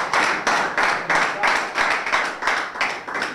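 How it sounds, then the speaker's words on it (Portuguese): Audience at a rap battle claps in unison, a loud, close rhythmic beat of about eight sharp hand claps spaced roughly evenly, each burst decaying quickly. "Tempo, aplauso pessoal para o Double D."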